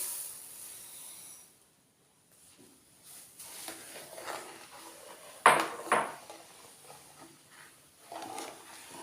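Sugar is stirred into star fruit (pulinchikka) jam in a pan, soft scraping and clinking of a spoon against metal in quiet, intermittent strokes, with one sharper knock midway.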